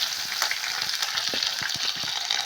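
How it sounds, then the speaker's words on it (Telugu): Cumin and mustard seeds frying in oil make a bright, continuous hiss with small crackles and pops scattered through it, heard close and alone without speech. "ఇప్పుడైతే ఇలా జీలకర్ర ఆవాలు వేస్తున్నా"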